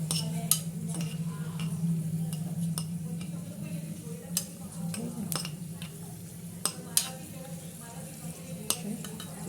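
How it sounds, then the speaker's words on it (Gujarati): Cashews sizzle in hot oil in a pan, a steady low frying hiss broken by clicks of a spoon stirring and tapping the pan, heard close. "તેલ ગરમ છે એટલે કાજુ ફટાફટ થઈ જશે।"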